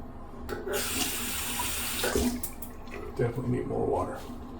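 A bathroom tap runs into a sink during a wet shave, a steady close rush of water broken by splashes and clatters as a shaving brush is rinsed.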